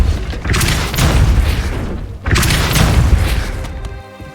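Two heavy whooshing blasts of the Depulso force-push spell in Hogwarts Legacy, each a loud booming burst lasting a second or two with a short pause between them.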